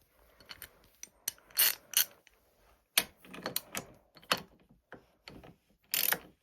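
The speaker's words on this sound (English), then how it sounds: "now we're gonna take this ratchet." A hand ratchet tightens the front end on a Yamaha YZ85 dirt bike being built, giving quick bursts of metallic clicking with short pauses between strokes, close and clear.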